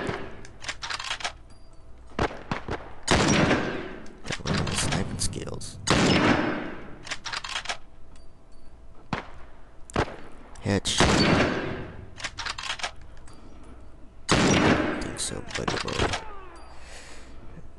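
Video game gunfire in The Last of Us, several loud bursts of shots and explosive blasts in clusters over a rumbling game soundscape, with a player talking intermittently.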